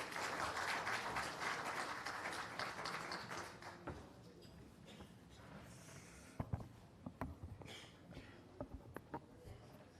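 Applause from a conference hall audience welcoming the founder and managing director of Ronak Group to the stage, dense at first and then thinning into scattered claps and taps.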